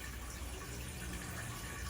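A faint, steady rush of water trickles from a tap, thin and continuous with no other sounds.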